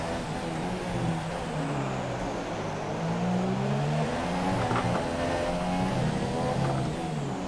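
Formula 1 car engines in F1 2017 during Mexico practice with a Toro Rosso close by, a continuous high revving whine that rises and falls through gear changes, loud and steady without talk.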